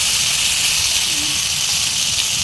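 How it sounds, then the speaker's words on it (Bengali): Eggplant pieces frying in hot oil with turmeric and salt give a steady, even hiss that holds at the same level throughout, close and unbroken. "এখন বেগুনগুলো ভেজে নেব"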